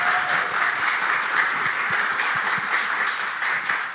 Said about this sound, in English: And another round of applause for Alexis.